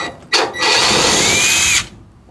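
A power drill runs continuously for a little over a second after a short burst, loud and close, backing out screws from beneath a GMC pickup.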